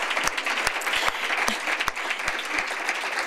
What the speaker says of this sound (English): So anyway, so applause for them.